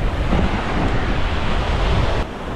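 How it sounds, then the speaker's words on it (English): Waves crash steadily on a very windy white-sand beach at Cayo Cruz, Cuba, a loud continuous surf roar mixed with wind buffeting the microphone, dropping slightly near the end. "The waves are crashing, but the water just looks fantastic."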